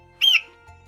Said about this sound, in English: E for eagle.